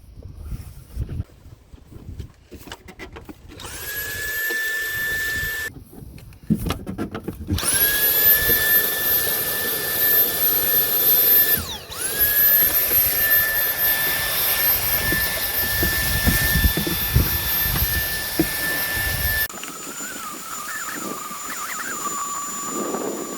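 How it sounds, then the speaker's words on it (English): A vacuum cleaner whines steadily at close range while clearing debris from a Toyota hybrid filter housing, its pitch rising as it starts and shifting as the nozzle moves, with brief cutoffs in between. "get a vacuum in there, just make sure that there's no hidden debris that I can't see"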